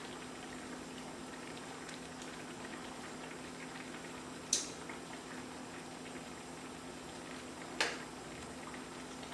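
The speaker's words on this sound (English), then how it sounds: "I wanted the flavor of the shrimp cooking in with our sauce" Sauce with shrimp simmering in a pot for quinoa shrimp and grits gives a steady, faint bubbling hiss, broken by two brief sharp clinks.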